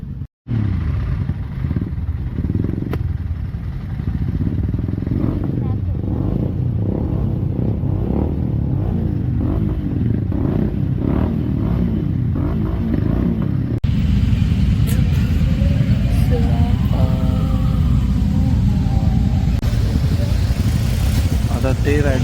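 A large group of motorcycles riding in a Republic Day unity rally of over 2000 riders, a steady close engine drone with passing revs throughout, with people talking over it.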